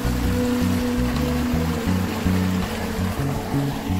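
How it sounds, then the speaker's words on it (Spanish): A rainy-season stream runs past a cabin property in Cofradía de Suchitlán, Comala, Colima, its steady broadband rush of flowing water continuous throughout, with a low, rhythmic music bed beneath it. "esto es todo lo que corre de agua"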